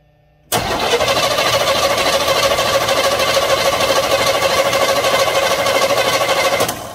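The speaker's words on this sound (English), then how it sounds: "I'm gonna go ahead and spin the key. Well, spin the engine over" A car engine catching abruptly after near silence and settling into a steady, loud, close idle that holds for several seconds, with no speech.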